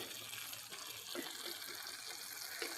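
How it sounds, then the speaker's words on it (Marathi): A little water poured into a cooking pan, heard as a soft, brief splashing trickle over quiet room tone. "इथे मी थोडंसं पाणी टाकते."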